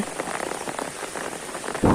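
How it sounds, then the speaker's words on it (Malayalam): Heavy rain pours steadily outdoors under an overcast sky beside a flooding river, a dense, continuous hiss of close drops with no voices, swelling into a louder gush at the very end. "ഇപ്പോഴും മഴ പെയ്തുകൊണ്ടിരിക്കുകയാണ്."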